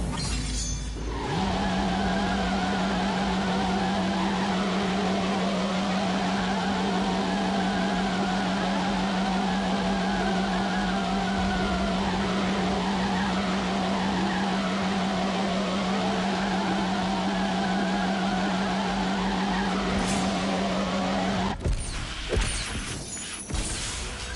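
A Citroen engine in The Grand Tour video game holds a loud, steady drone at near-constant pitch for about twenty seconds. It then cuts off into a burst of clattering noise.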